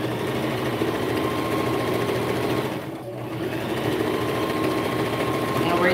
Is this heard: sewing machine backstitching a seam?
yes